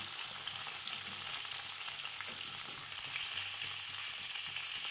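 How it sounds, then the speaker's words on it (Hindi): Broccoli frying in hot oil, a steady dense sizzle close by that holds at an even level with no talking. "हमारी ऑयल गर्म हो चुकी है, अब इसमें हम ऐड करेंगे ब्रोंकली को।"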